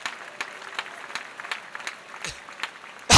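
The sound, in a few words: applause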